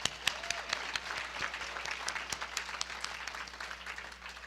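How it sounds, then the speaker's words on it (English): An audience applauds singers and musicians at a business awards event, a sustained dense patter of clapping in a hall, fairly close, with a faint voice underneath. "Let's give them a round of applause."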